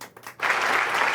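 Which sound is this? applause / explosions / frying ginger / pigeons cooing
applause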